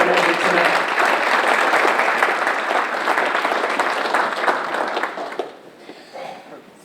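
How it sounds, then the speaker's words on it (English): Audience applause at a school board meeting for people commended that evening, a strong sustained wash of clapping that gradually thins and fades out near the end. "Can we have one more round of applause for all the folks that were commended tonight?"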